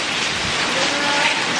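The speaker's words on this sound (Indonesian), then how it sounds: "tapi hujan, ibu-ibu hujan gede, gede banget" Heavy rain pours down nearby, a loud, dense and steady roar of drops hitting surfaces with no break, heard on its own.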